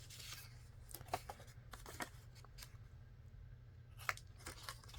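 Scissors snipping through paper at a slight angle while shaping a hinged journal pocket: a few quiet, crisp cuts spread over several seconds, close and soft against a low background hum, with no talking.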